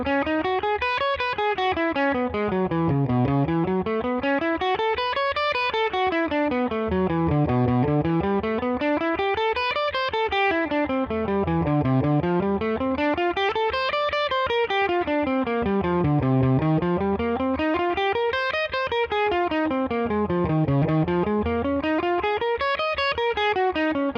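Electric guitar, driven through distortion and effects, running scale patterns through all 12 keys in the circle of fourths within one fretboard position, steady rising and falling runs repeating continuously and loudly for the whole stretch.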